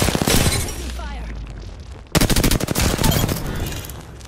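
Enemy gunfire in Apex Legends, a rapid automatic burst of close, loud shots that breaks off and then resumes as a fast crackling volley, mixed with game effects.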